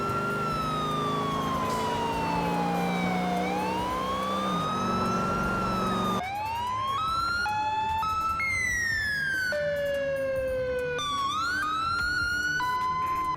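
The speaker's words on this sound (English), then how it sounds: "If you accidentally like flip your cop car and break the lights on top, the siren changes and becomes broken with the rest of the car." A police car siren in Rockstar's 2008 video game wails smoothly at first, then turns broken after the car flips and its roof lights break, jumping in abrupt, erratic pitch steps, loud and continuous.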